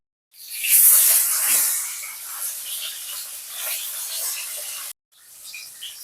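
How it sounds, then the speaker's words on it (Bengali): A steady, bright sizzle of bata fish frying in hot oil, loudest at first, then settling into a softer crackle with a brief break near the end. "আমি হালকা করে এপিট ওপিট করে ভেজে তুলে নেব"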